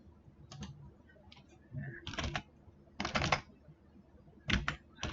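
Computer keyboard typing as text is entered in Photoshop, heard in a few short clustered bursts of quick key clicks, close and fairly quiet, with pauses between them and no talk.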